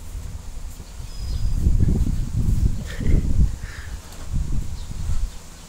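Outdoor wind gusting against the microphone in low, rumbling swells that rise and fall over several seconds, with no talking.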